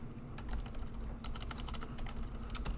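Computer keyboard typing while deleting code, a rapid irregular run of crisp key clicks and taps close by, steady over a low hum with no talking.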